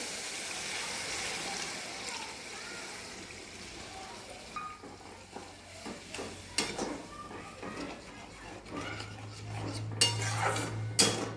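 Water poured into a cooking pot while making a spinach and paneer dish, a soft running wash followed by clinks and clatter of the pot and utensils, moderately close.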